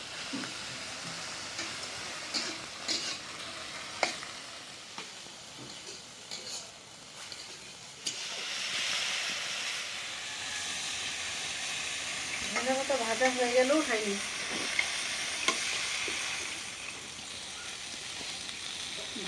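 Steady sizzling of coriander leaves frying in soybean oil, with scattered clinks of a utensil and a brief burst of louder crackling partway through.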